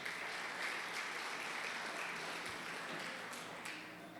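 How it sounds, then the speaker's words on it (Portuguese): Church congregation clapping during a missions service, a steady, fairly faint wash of many hands that holds evenly and tapers slightly at the close. "Uma salva de palmas para eles, amados."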